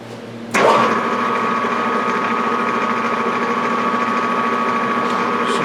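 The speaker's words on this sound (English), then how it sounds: "I'm just going to start off, going to center drill this" A metal lathe starts up and then runs steadily while center drilling a roller tip for a steady rest, producing a continuous whine with a steady hum underneath. No one speaks.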